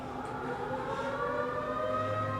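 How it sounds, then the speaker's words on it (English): An air raid siren wails steadily, a continuous tonal drone holding through the whole stretch at moderate loudness with no voices over it. "It was just the air raid siren."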